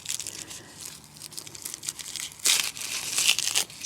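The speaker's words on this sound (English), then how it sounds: "break this into individual cloves" A garlic bulb is broken apart into individual cloves with close, dry crinkling and crackling of the papery skin, louder bursts of tearing and crunching in the second half, with no talk.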